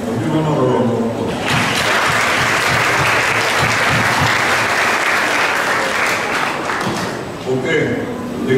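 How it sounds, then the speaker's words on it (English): A crowd at a high school graduation ceremony applauds loudly and steadily, the clapping swelling in after a brief moment and continuing for several seconds before tapering. "Give him another round of applause."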